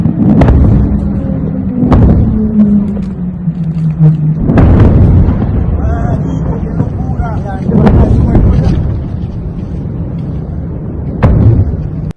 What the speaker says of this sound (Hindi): वेनेजुएला की राजधानी कराकस जोरदार धमाकों से दहल गई।